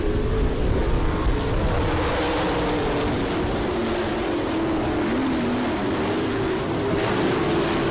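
Sprint car engines roar together at the start of an All Star Circuit of Champions heat race at Attica, Ohio, a loud continuous drone that rises and falls steadily throughout with no break.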